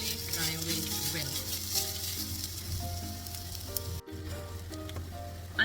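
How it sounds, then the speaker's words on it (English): Masala of grated coconut and Kashmiri red chili powder frying in a pan for mackerel curry, a steady close sizzle with faint tonal background sounds and a brief dropout partway through. "And now let it really fry away well."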